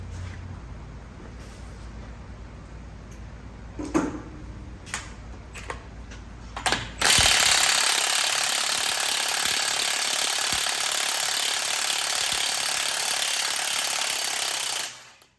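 A pneumatic impact wrench zips off the upper sway bar link nut and the big knuckle-to-strut bolts on a 2009 Chevrolet Traverse. A few metallic clicks come first, then a long, loud, steady hammering whine runs close by for about eight seconds.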